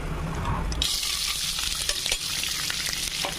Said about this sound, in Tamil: வெங்காயம், பச்சை மிளகாய், இஞ்சி எல்லாத்தையும் போட்டு நல்லா வதக்கணுங்க.